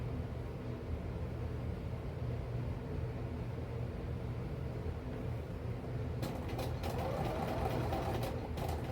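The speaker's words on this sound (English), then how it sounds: "So now I'm sewing, I didn't show you that, I'm sewing 2 pieces that I had that I've pressed." A sewing machine stitches two pressed fabric scraps together, giving a steady mechanical whir that turns into a rapid, rattling stitching clatter during the last few seconds. No one speaks.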